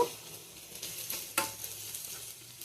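Sliced onions with a little salt fry to a deep brown for beresta in a pan, a soft, close sizzle with scattered crackles and a few sharper stirring pops.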